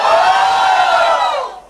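An audience at a stand-up comedy show answers a call for a cheer with a loud burst of crowd cheering and shouting that fills the room briefly and then fades out.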